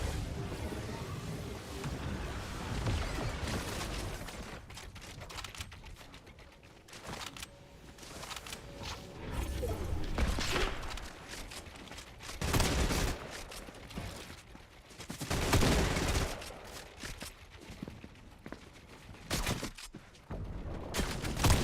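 Hunting rifle gunshots in a video game, played with a gyro stick setup, ring out as loud, irregular bursts and cracks with mechanical clicks between them, continuing throughout at close range.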